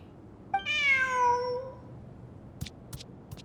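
A cat meows once in the video game Genshin Impact, a clear, drawn-out cry with a rising then falling pitch, close and alone, followed by a few faint clicks.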